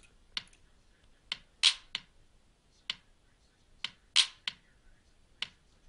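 Crisp, dry finger-snap samples in a basic hip hop beat pattern built in FL Studio 8, sharp isolated clicks repeating in a regular loop with two louder accented snaps.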